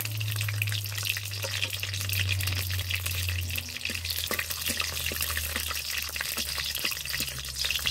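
Whole bay leaves and dried chilies fry in hot oil for a Bengali vegetable khichuri, giving a steady, close crackling sizzle over a low hum throughout.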